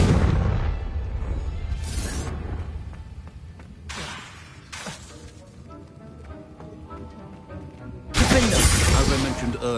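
Fiery Confringo spell blasts in the Hogwarts Legacy video game, several sharp bursting explosions with crackling debris spaced a few seconds apart, the last one loudest, amid game ambience.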